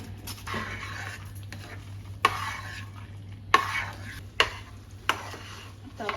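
A spoon stirs flour dough mixed with cardamom powder in a pot for puran poli, soft scraping with several sharp knocks against the vessel over a low steady hum.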